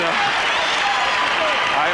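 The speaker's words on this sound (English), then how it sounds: "the crowd is cheering here for the Bulls right now" Crowd in a basketball arena at a 1991 Bulls–Pistons playoff game cheers and applauds in a loud, dense roar that fills the space, with commentary voices running over it.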